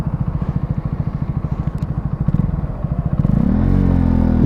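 A Honda CB 125R motorcycle throbs with a steady, close engine pulse, then its pitch climbs sharply as it accelerates to overtake, the revs building loudly toward the end.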